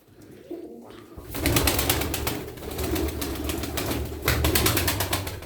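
A female Çorum çıplağı tumbler pigeon takes off with loud, rapid wing flapping up close, with a steady rhythmic clatter of wingbeats that continues after a quieter opening.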